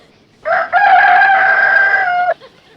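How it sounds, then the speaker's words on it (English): A single loud, close rooster crow, drawn out for nearly two seconds against a quiet background. "Rooster crows before he goes to bed."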